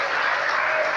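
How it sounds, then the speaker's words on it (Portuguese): A brief burst of dense, steady applause from a church congregation during a Portuguese-language service, loud and continuous with no voices over it. "Você pode dar um forte aplauso ao Senhor?"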